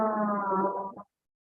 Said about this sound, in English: we're going to take 3 deep hums